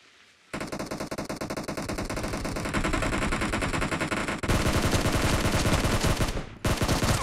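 Rapid automatic gunfire from a battleground video game, dense continuous bursts of machine-gun shots, loud and close, with a brief break near the end before the firing resumes.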